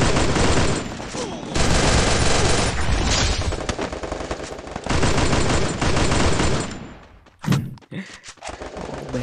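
Gunfire in the mobile battle royale game Free Fire: loud, rapid automatic bursts in long runs with short gaps, ending in a few muffled thumps.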